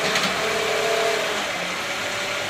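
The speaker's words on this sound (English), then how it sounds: "I hop in the car and start it" A car engine runs close by in a garage or driveway, with a brief rise in revs at the start before it settles into a steady idle hum.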